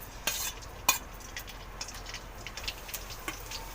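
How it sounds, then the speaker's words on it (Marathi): Finely chopped garlic frying in two spoons of hot oil, a soft, steady sizzle close by, broken by a few sharp clinks and scrapes of a spoon stirring against the pan; no talking. "आता मी 2 चमचे तेल गरम करायला ठेवलं आहे. आता मी बारीक चिरलेला त्याच्यात लसूण टाकते."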